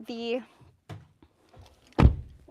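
Doors of a 2026 Hyundai Kona Essential being shut. A short voice comes first, then a couple of soft knocks, then one solid, close thunk of a door closing.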